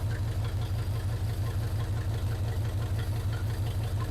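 A 1980 Chevrolet C/10 Square Body Cheyenne pickup engine idles just after its first start, a steady, even low chugging throb with a faint knocking rhythm, close and unbroken.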